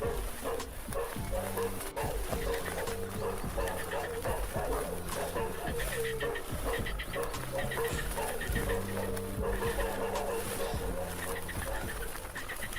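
Several dogs bark and whimper in bursts over a steady layered background, with a voice talking over them throughout.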